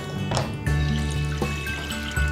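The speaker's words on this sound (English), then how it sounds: "We've got 700 ml of whole milk that we're pouring into a saucepan," Whole milk, 700 ml, poured into a saucepan, giving a continuous close liquid stream with gurgling and splashing that swells at the start and holds steady.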